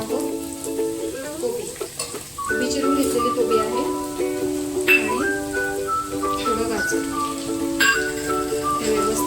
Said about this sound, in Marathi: तेलावर परतून घ्यायचं एक तीन चार मिनटं व्यवस्थित सगळं आपण घातलेल्या भाज्या परतून घ्यायच्या